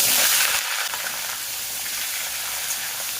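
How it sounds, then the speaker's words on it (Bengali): Potatoes frying in oil with black cumin seeds in a kadai, giving a loud, close, steady hissing sizzle that starts with a brief louder burst and then runs on continuously. "আলুটাকে ভেজে নেব।"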